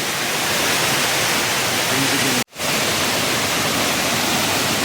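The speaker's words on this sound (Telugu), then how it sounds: "ఇందాక చూపించిన వాటర్ ఫాల్ అయితే అది అందులో నుంచి పక్కన నుంచి అయితే ఒక చిన్న రంధ్రం కింద అయితే వాటర్ అయితే చాలా ఫోర్స్గా అయితే కింద పడుతుంది" Water from Mettuguda waterfall in Seethampeta plunges forcefully through a narrow gap, producing a loud, continuous roaring wash that fills the clip, broken only by a momentary gap in the middle.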